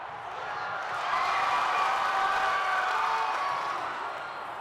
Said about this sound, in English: Crowd is firmly behind Honey now